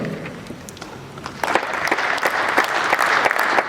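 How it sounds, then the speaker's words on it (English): Audience at a technology summit panel breaks into a round of applause, starting sparse and swelling into steady dense clapping from many hands, fairly close and sustained. "Let's give him a beautiful round of applause."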